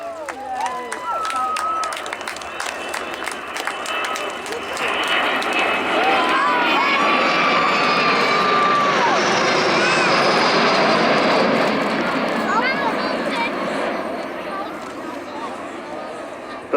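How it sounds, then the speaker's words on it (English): A delta-wing Avro Vulcan bomber with four Rolls-Royce Bristol Olympus engines passes at an air show at Church Fenton, its roar swelling from a distant whine to a loud sustained rumble and then fading. "The lovely sound of 4 Rolls-Royce Bristol Olympus engines accompanied by 2 little Orpheus engines"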